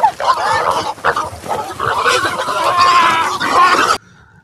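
A pig squeals and grunts loudly and continuously at close range, harsh and frantic while being caught, before cutting off abruptly near the end.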